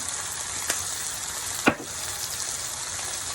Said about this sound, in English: I'm going to add a little bit more sesame oil on one side of the pan.